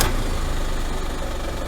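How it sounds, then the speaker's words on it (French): A diesel car engine with freshly replaced glow plugs cranks and catches at once, then settles into a loud, steady, close idle with a rough diesel rumble. "on va démarrer le moteur et puis on va regarder ce que ça donne"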